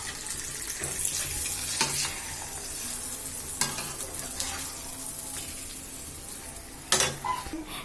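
A rolled, round sweet potato paratha sizzles in a frying pan, a steady close hiss broken by several scraping and turning bursts, loudest near the end, with no talking.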